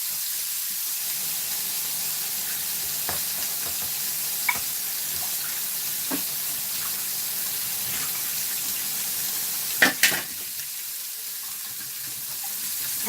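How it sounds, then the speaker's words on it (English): A bowl is rinsed under a running kitchen tap in a tiny kitchen: a steady, close rush of water for the whole stretch, with a few soft knocks and a louder clatter of the bowl near the end. "so I'm going to wash this quickly."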